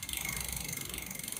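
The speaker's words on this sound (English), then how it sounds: "I'm just gonna go ahead and pedal this, give it a click, and it should shift right up there" A bicycle crank is pedaled on a newly assembled bike, giving a steady, close ratcheting tick of the freewheel and chain that runs quietly and evenly throughout, with no voices.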